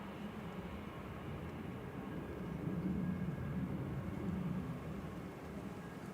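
A fixed-wing airliner arriving at Manchester Airport roars as a faint, distant, broad rumble that swells slightly in the middle and then holds steady.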